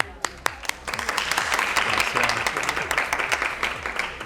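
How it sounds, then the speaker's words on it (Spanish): A studio audience greets a guest on a podcast with applause, starting as a few sharp separate claps and swelling into close, dense clapping, with a voice speaking over it. "un aplauso para Ludwika Vega"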